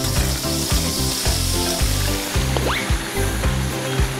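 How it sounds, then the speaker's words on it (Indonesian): Spices sautéing in hot oil in a home kitchen, a loud, close, continuous sizzle and crackle with rhythmic scraping and stirring knocks throughout, no talk. "emak tumis semua bumbunya di minyak panas"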